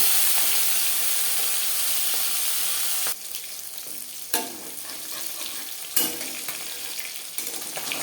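Pieces of bata fish frying in hot oil for a jhol, a steady loud crackling hiss that softens partway through, then scattered spatters and scraping sounds close by.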